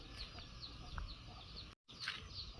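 Soft, high chirps from chicks repeat now and then against a quiet outdoor background in front of a house, with a brief dropout partway through.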